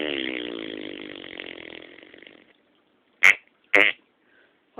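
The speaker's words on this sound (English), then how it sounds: "How about a spring fart from out my butt?" A fart sound in a playful burping and farting contest: a long buzzy, rasping blast of about two and a half seconds fades out, followed by two short, sharp squeaky bursts, fairly loud and alone.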